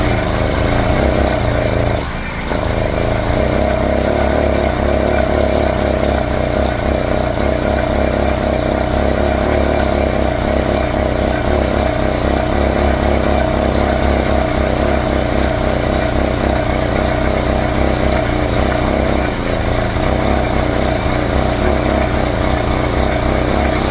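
An 80cc motorized bicycle engine runs after throttle is applied, producing a loud, continuous close-up drone with a steady pulsing rhythm for the full stretch and no voices.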